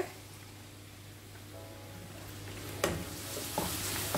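Shallots frying in coconut oil for Kerala-style sardines baked in banana leaf, a soft steady sizzle with a low hum underneath and a few louder clatters and bursts toward the end.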